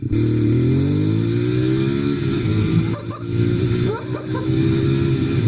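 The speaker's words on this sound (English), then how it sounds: "that engine braking is not bad at all." A 2016 Ducati Monster 821 engine braking on the road, giving a close, steady droning exhaust note whose pitch sags and holds, with some mechanical clatter late on and no talking.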